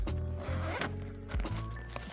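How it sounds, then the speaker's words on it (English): A zipper on the front pocket of a Kemimoto saddle bag fitted to a Honda Navi is pulled open in a quick, close ratcheting rasp lasting about two seconds. "Front zipper here."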